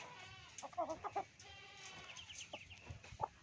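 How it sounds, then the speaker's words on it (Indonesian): Loud, rapid cackling calls from an Ayam Ketawa laughing chicken, a run of bursts early on followed by a few scattered squawks, close and clear with no talk. "Ini ayam ketawa."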